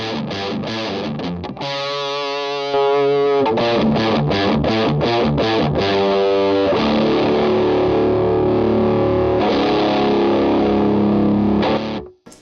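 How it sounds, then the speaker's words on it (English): Electric guitar run through distortion drive pedals, chords and riffs with gritty saturated tone, some choppy muted stabs then sustained distorted chords, loud and close, cutting off at the end. "Let's hear just our distortions."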